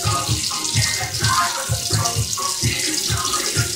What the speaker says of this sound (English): I put more water in my beef.